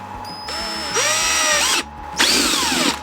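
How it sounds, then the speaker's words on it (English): A power drill whirs in two loud bursts with a short pause between, the motor pitch rising and falling as it bites into the material, drilling a hole during a DIY LiFePO4 solar battery build. "So I'm just gonna go ahead and drill"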